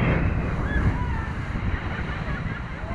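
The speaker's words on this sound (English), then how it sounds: "That's the blowhole." Ocean surf surges and washes at a sea blowhole in Vava'u, Tonga, with strong wind buffeting the microphone and people talking nearby.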